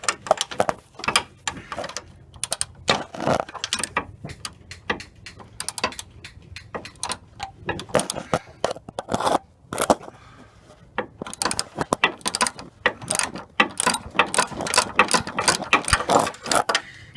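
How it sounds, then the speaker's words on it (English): Ratchet fitted with a 14mm socket loosening bolts on an RB30 engine in a Holden VL, giving bursts of quick clicking at close range with short pauses between strokes. "All I'm using is a 14mm and a ratchet."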